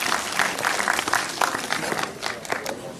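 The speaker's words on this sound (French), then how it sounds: "On applaudit très très fort." An audience at a magic show claps steadily, a dense, close wash of applause that carries on without a break for the whole stretch.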